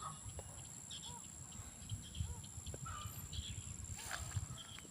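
Small bird chirping faintly in a rural home garden planted with chili peppers and squash, a few short calls scattered over a steady low outdoor rumble.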